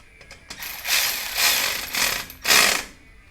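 Turbo whistles being screwed tightly into a car's exhaust tip give off a few bursts of metallic ratcheting and scraping, close up, in uneven spurts with short pauses between.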